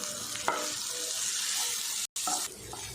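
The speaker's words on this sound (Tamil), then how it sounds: "கொத்தமல்லி தழையெல்லாம் சேர்த்துட்டு நல்லா வதக்கி விட்டாச்சு" Tomatoes and coriander leaves sauté in a pan for an onion chutney, giving a steady close sizzle with occasional stirring scrapes and a brief dropout near the end, with no talking.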